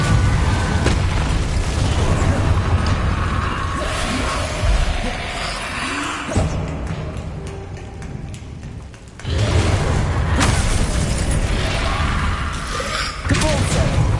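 Incendio and Depulso spells are cast in the Hogwarts Legacy video game, giving loud booming bursts and thuds over a steady game soundscape.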